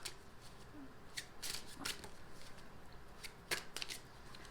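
A deck of tarot cards is shuffled by hand in quick bursts, with crisp riffling flutters and sharp snaps as cards slide and tap together, close and fairly quiet.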